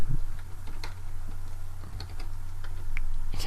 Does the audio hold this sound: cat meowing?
no